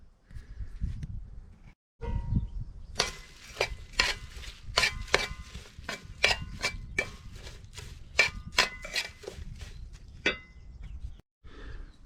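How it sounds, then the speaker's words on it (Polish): Knife chopping treats for backyard chickens on a cutting board, a quick run of sharp, evenly spaced taps close by, with dull handling knocks before and after and no talking. "No ja kroję te smakołyki i zaraz zobaczycie jak wygląda sołteczka."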